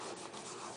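Rub 'n Buff wax finish being rubbed onto a clay embellishment, a soft, steady, close-up scrubbing friction that continues without pause.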